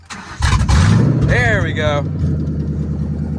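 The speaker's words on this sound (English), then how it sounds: "She's still header dump, so let's get a little header dump cold start." A Ford Mustang GT cold start with header dump: a loud close crank and a sharp rev rising into a rough, steady idle, with a brief spoken remark over it.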